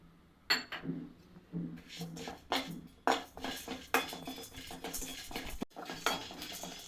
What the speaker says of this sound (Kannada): ಜೀರಿಗೆ ಮೆಣಸು ಒಂದು ಸ್ವಲ್ಪ ಹುರ್ಕೊಬೇಕು